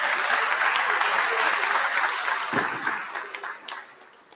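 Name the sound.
audience applause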